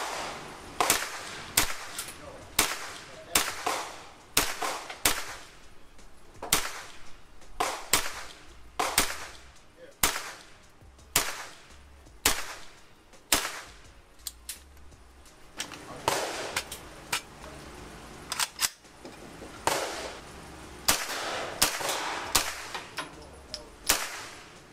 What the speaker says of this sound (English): Let's check out some shooting footage